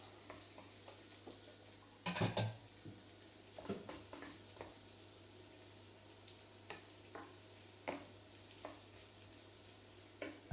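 Celery and onion sweating in a pan, a faint gentle sizzle with sparse ticks and pops, a sharper clatter of utensil against pan near the start, steady low hum underneath.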